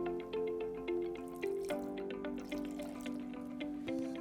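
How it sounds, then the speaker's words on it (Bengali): A small amount of water is poured into a cooking pot, a soft trickle with light dripping and splashing, faint and steady over a few seconds. "অল্প জল দিচ্ছি।"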